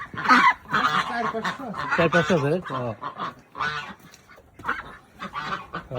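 A flock of ducks honks and quacks loudly and close, in rapid overlapping bursts, with people speaking over the birds.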